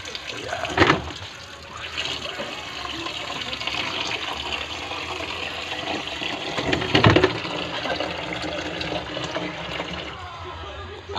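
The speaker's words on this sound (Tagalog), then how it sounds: "Lagyan ng tubig." Water pouring and gushing steadily into a cooking pot while preparing a Filipino pork dish, a continuous broadband splash lasting throughout with a couple of louder surges, close by and without talk.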